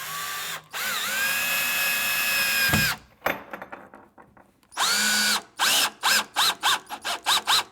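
A power drill drives a screw at slow speed, its motor whining in long runs, then a pause with small clicks, followed by a rapid series of short pulsed bursts as the screw is snugged in.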